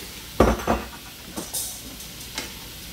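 Chicken and zucchini stir fry in a pan, a couple of loud scraping stirs and clanks of a utensil over a faint low sizzle, short and close.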